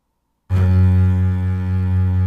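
Sampled LA Scoring Strings basses: a staccato hit layered over a legato patch gives a sharp attack after brief silence, then a deep sustained bowed chord continuing loud and steady.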